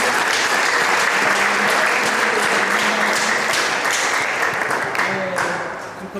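A church congregation applauds at a choir service, a dense, loud wash of many hands clapping together that holds steady before easing slightly at the end.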